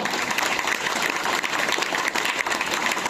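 Audience applause for the three co-founders of Vestige at a company meeting in Kavali, a dense, steady wash of clapping from a crowd that runs without a break.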